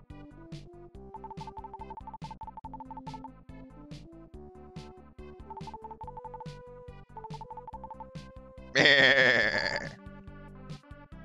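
Soul Blazer's chiptune music plays as a goat bleats once, loud and wavering for about a second near the end.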